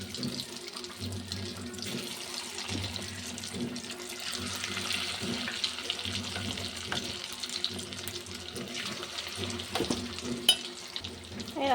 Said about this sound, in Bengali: এই দেখো চিকেনটা পুরো ভাজা হয়ে গেছে।